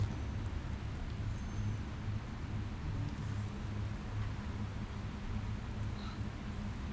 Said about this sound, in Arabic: زين المطر هذا يعني تلاقيه راح يزيد علينا